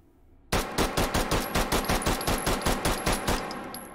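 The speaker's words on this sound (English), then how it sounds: "Let's do the recoil test. 15 rounds of 9x19." A SIG-Sauer P226 pistol in the VR shooter H3VR fires a rapid string of 15 rounds of 9x19, each shot a sharp, evenly spaced crack after a brief quiet start, loud and close with no talk.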